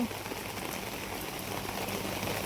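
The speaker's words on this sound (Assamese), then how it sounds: "এনেকুৱা ডাঙৰ বতাহ বৰষুণ" Heavy wind and rain during a prolonged downpour, a dense, steady hiss of rain pattering on surfaces throughout.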